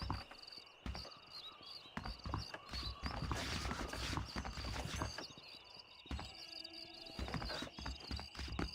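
Horses in the Red Dead Redemption game clip-clop along with a steady hoof rhythm, joined by creaking tack and an occasional snort, fairly close, with no talk.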